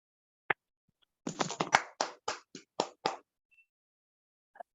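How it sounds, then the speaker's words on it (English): Scattered claps over an online call after a mathematics talk: a few participants clap in short, sparse bursts, close and dry, with isolated single claps before and after and silence between. "I suggest that we all unmute ourselves and give a round of applause."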